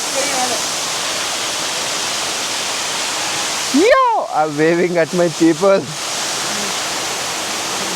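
A waterfall at Mullayanagiri, Chikmagalur roars as a steady, loud broadband rush, briefly dipping while someone shouts over it before the torrent continues alone.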